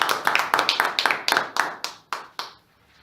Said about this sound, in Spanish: Quiero que le des un fuerte aplauso.